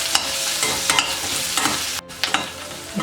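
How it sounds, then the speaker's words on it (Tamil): Onions sautéing in a pan for aval upma, a steady close sizzle broken by repeated scraping stirs of a spoon, with a brief dip near the end; no voices. "இப்போ இந்த வெங்காயம் நல்லா வதங்கிடுச்சு"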